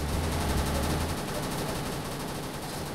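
Rapid gunfire from a Gatling-like weapon in Roblox Call Of Mini Zombies, a dense, continuous rattle of loud shots over three seconds.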